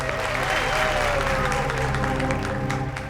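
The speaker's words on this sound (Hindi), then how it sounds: "तालियां बनती है इस बात पे डीकेसी चैरिटी के लिए।" Sustained applause from a crowd, steady and dense clapping throughout with a faint tonal hum running underneath.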